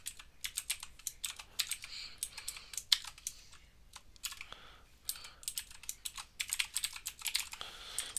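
Computer keyboard keys typed in quick bursts separated by brief pauses, crisp and close, while entering login details for an automated Python Selenium test.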